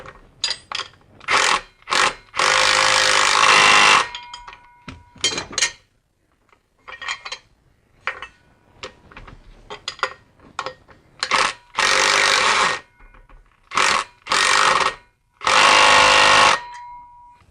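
Bolts being tightened on a BMW X5 E53 transfer case with an 18 mm tool: bursts of loud ratcheting and power-tool whirring, several long runs broken by short clicks and quiet gaps, close by with no talk.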